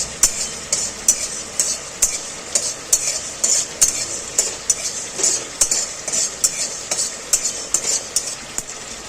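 Fenugreek seeds dry-roasting in an empty wok, stirred with a utensil in quick regular strokes, each a sharp scrape or clink against the metal, repeating about twice a second, close and clear with no talk.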